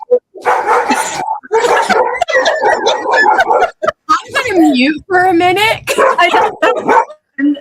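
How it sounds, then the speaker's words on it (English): A dog barks, yips and gives a harsh coughing fit in a home, the sounds close and mixed with a person talking over them. "That was my dog having his coughing thing."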